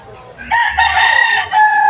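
A lemon sweater rooster, an eight-month-old bird for sale at a chicken market in Lipa, Batangas, crows loudly and close, one sustained crow after a quiet start, breaking briefly and then carrying on strongly.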